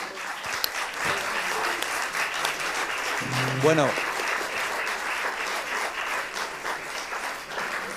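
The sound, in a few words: audience applause for three speakers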